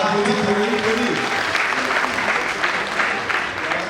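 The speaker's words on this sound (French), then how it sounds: "On applaudit pour lui." An audience at a company general assembly claps for an absent prize winner, a dense round of applause that starts loud with voices mixed in and then tapers slightly.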